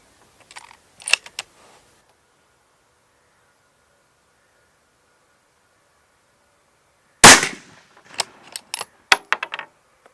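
A Steyr Scout II rifle in .223 Remington having a round chambered: soft metallic clicks at first, then after a pause a sharp clack of the bolt followed by quick rattling clicks, close and crisp.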